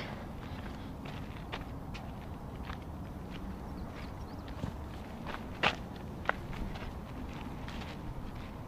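Footsteps crunch up a dirt hiking trail near the Hollywood Sign, quiet and irregular against outdoor background noise, with a couple of sharper scuffs partway through.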